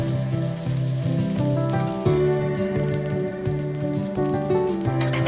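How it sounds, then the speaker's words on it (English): Dry chili, Sichuan peppercorn, Thai chili and shallots are stir-fried in a wok, with a steady close sizzle and crackle running under continuous background music. "Quickly toss around a few times until you smell the aroma."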